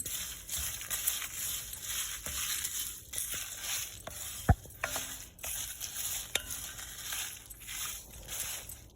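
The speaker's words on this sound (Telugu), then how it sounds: "ఈ కళాయి మందంగా ఉంటుందండి అందుకని ఆ వేడికి బాగానే వేగిపోతాయి" Fenugreek seeds and spices dry-roast in a thick, heavy kadai, giving a steady rustle of stirring and scraping with a few sharp clacks of the spoon against the pan, and no voices.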